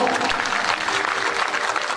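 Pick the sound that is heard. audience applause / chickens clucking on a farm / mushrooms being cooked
audience applause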